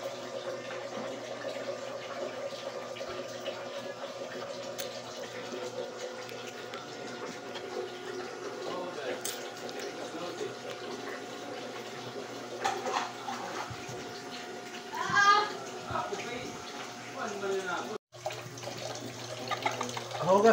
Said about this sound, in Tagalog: Hugas muna tayo, guys.